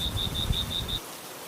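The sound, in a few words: heavy rain pattering at night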